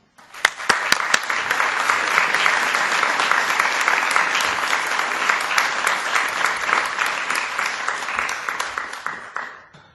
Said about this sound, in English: I ask that we each show our appreciation to Peggy with a round of applause.